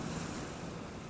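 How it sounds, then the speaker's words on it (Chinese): Wind-driven sea waves crashing on a shore, a dense, steady roar of surf and wind that fills the whole short stretch and swells slightly at the end, with no voices. "唯有风吹海浪，惊涛拍岸"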